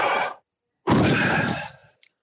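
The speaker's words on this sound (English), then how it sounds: "That's breathing." A person breathes out the letters YHWH: a short breathy exhale, a pause, then a longer, fuller rushing breath that fades slowly, close and clear.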